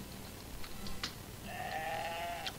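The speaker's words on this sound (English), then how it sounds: "Sheep." Sheep bleating in the horror video game Moria, a couple of drawn-out bleats at moderate distance over a low ambient background, with no talking.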